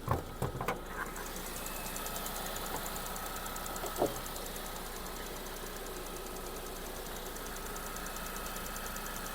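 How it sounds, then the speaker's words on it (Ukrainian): A Skoda Octavia with 161 thousand km idles steadily, a faint even engine hum with light mechanical ticking, preceded by a few brief knocks and clunks at the start and one more near the four-second mark. "Двигун працює чітко"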